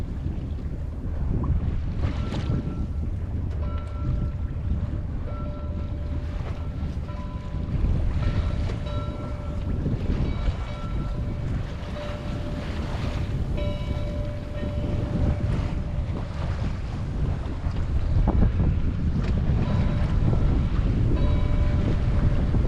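Wind buffets the microphone on a sail off Mount Desert Island, where big gaff-rigged Friendship Sloops are tacking nearby. A steady rushing roar of wind and water fills the whole stretch, with faint tonal creaks and no voices.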